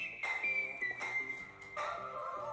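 A person whistles a lively melody, a bright continuous tone sliding between notes with short breaks, close and clear against a faint background.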